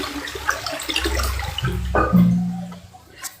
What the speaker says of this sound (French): Maintenant qu'on vient de tirer la chasse d'eau